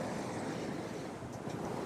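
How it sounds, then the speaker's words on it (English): Beam waves at sea washing against and splashing over a sailboat hull, a continuous rushing wash with a couple of slightly louder surges near the end, steady and fairly quiet. "now we're getting this beam wave every so often that just splashes over the boat"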